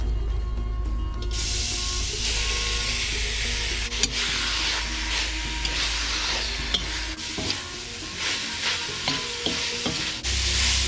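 Marinated pork belly is stir-fried in a pan for Thai hung lay curry, a loud continuous sizzle under a low hum, broken by repeated scraping stirs and sharp spatula knocks, close up with no talking.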